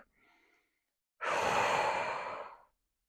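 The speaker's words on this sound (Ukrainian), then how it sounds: "Вдих." A deep, slow inhale during diaphragmatic breathing practice for pelvic floor recovery, a single long breath drawn in close and clear after a faint earlier breath, alone in quiet.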